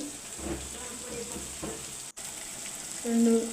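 Chicken curry frying in a pan just after cinnamon-clove spice powder goes in, with a steady soft sizzle and faint ladle-stirring scrapes, a brief dropout midway, then a louder tonal hum near the end.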